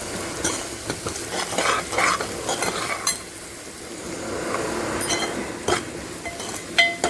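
Fish curry masala with plenty of turmeric sautés in a pan, sizzling steadily while a utensil stirs and scrapes, with clinks of metal against the pan throughout, close and loud.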